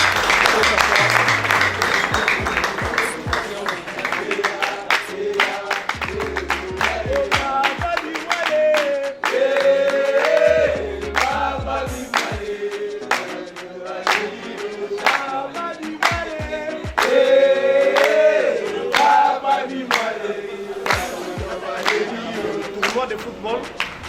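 A church congregation at a ceremony breaks into applause and cheering, with clapping and crowd noise going on for a long stretch under singing and music.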